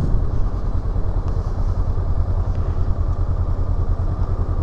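A 2023 Honda CL500 motorcycle under way on a test ride, its engine giving a steady, loud, continuous drone with rough low rumble and wind noise, no speech.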